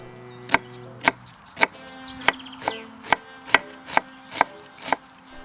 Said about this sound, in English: Finely mince the onion.